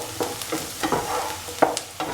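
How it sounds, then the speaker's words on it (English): Onions sautéing in a pan for an Afghan-style egg, tomato and potato breakfast, with soft sizzling broken by repeated spoon stirs and light scrapes at a steady close rhythm. "Keep on sauteing the onions"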